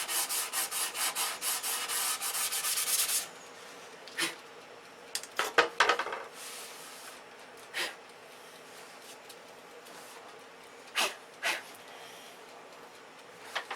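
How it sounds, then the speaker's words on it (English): Sanding on a control line P-51B model plane: a steady, close rubbing scrape for the first few seconds, then scattered short rasping strokes and light taps separated by quiet pauses. "It's never-ending sanding."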